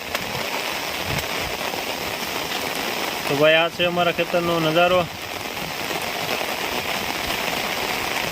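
Monsoon rain falls steadily on a waterlogged farm field at the season's first downpour, a constant broad hiss throughout, with someone talking briefly over it midway.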